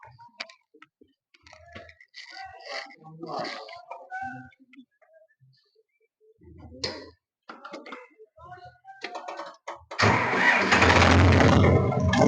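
A Hindustan 75 tractor engine fires up after several seconds of scattered voices, then runs at a loud, close, steady idle; people talk before it starts.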